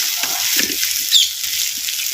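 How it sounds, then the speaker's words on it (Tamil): Small shallots, curry leaves and mint sautéing in oil, a close, even hiss of frying with faint stirring scrapes, no voices over it. "சேர்த்த கருவேப்பிலை புதினாவையும் அப்படியே எண்ணெயில் சின்ன வெங்காயத்தோட நல்லா வதக்கி"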